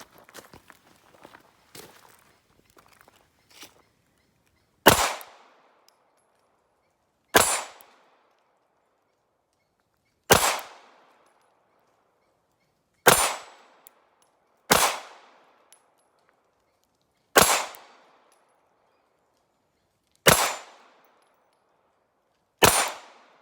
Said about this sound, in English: Going to shoot some steel here to 8 yards and see what we think.